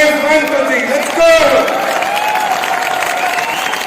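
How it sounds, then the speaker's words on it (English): An audience at a corporate launch event for M3M Capital claps and cheers loudly and steadily across the whole stretch, a dense wash of applause with a voice rising briefly over it. "can we hear the loudest of clap and cheer for yourself?"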